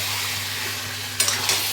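Marinated chicken with ginger-garlic paste, yogurt and spices sautéed in a pan, a steady sizzle with a few sharp spoon scrapes and stirring taps near the end.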